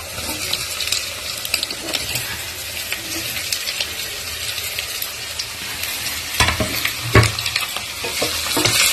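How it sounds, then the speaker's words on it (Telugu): Potato pieces go into browned onions in a pan for a Telugu potato curry, giving a steady, close sizzle with repeated spoon stirring and a few louder scrapes and clinks toward the end. "ఆనియన్స్ ఎర్రగైన తర్వాత ఆలు వేస్తున్నా."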